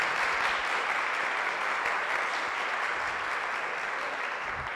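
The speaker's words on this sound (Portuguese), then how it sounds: "uma salva de palmas para eles" An audience at a church Family Week gathering gives a full round of applause, dense continuous clapping from many hands that stays loud and even from start to finish.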